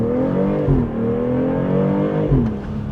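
A BMW X3 M40i accelerates hard from a stop sign, its engine revving up loudly and close. The rising tone drops briefly at each quick gear shift before climbing again.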